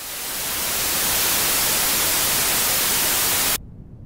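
Filtered noise from the noise generator module in BeepStreet Drambo, a steady loud hiss that swells in over the first second, holds evenly, then cuts off abruptly, leaving only faint residual low rumble.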